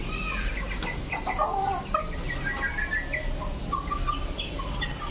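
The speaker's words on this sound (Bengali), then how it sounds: "দেখুন মুরগি বসে আছে" Chickens on a rooftop make soft, repeated clucks and chirpy calls over a low background hum, fairly faint and with no voices.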